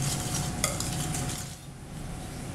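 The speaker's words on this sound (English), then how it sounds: "so we'll whisk that up" A curry dressing for a vegan curried tofu salad, about four tablespoons with cilantro, is briskly whisked in a bowl: quick scraping and light clinks for a second or so, then a quieter tail.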